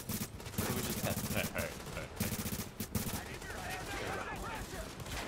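Automatic gunfire in The Division, a Tom Clancy shooter: several rapid bursts of close, crackling shots separated by short pauses, with a voice talking faintly underneath.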